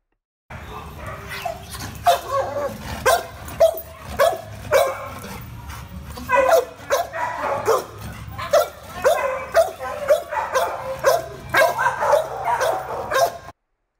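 Reactive shelter dog in a cage barking repeatedly in loud, close, rapid bursts with yips and whimpers, continuing steadily throughout.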